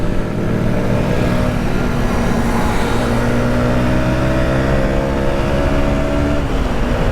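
A Yamaha MT 125 motorcycle engine drones loud and steady while riding and overtaking on a warm day, the pitch holding then shifting slightly as it pulls past, with constant wind rush and no talking.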